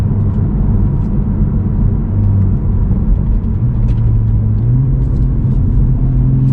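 Deep engine rumble from a 2023 Toyota GR Supra cruising, a steady low drone with shifting pitch and faint crackles that could be exhaust burbles.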